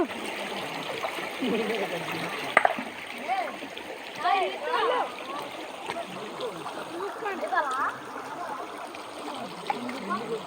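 Water from a stream below a waterfall beside pineapple plantations flows and splashes steadily close by, and children's voices and adult speech run through it.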